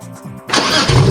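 A drift car engine in the Roblox game cranks briefly and catches, then settles into a loud, close idle within about a second.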